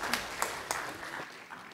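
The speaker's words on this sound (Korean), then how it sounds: "할렐루야 영광의 박수 드리겠습니다" A congregation at a Wednesday evening church worship service claps briefly, a few faint scattered claps in a quiet room.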